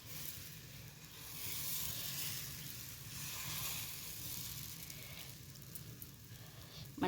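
Pesarattu, a green gram dosa batter, sizzles on a hot pan with a soft continuous hiss and faint crackle, close and quiet, rising slightly midway before a small clatter at the end.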